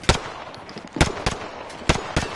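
Gunfire in a first-person video game, five sharp, loud shots at uneven intervals, each a crisp crack with a short tail over a low background hum, with no talking.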